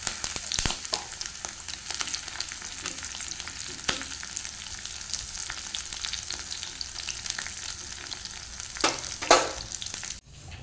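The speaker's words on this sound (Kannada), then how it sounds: "ಸಾಸಿವೆ ಒಡೆದ ಮೇಲೆ ಬೆಳ್ಳುಳ್ಳಿಯನ್ನು ಹಾಕ್ತೇನೆ" Garlic frying in hot oil with popped mustard seeds for a tempering, a steady close sizzle with scattered crackles, a brief louder burst near the end and a sudden stop, no talking.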